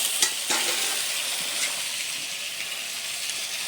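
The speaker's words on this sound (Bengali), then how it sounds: "নেড়ে চেড়ে বেশ সুন্দর করে আলুটা এবার কষে নেব।" Boiled potatoes are stirred and sautéed in a hot pan, giving a loud, steady frying hiss with a couple of spatula scrapes near the start and no talking.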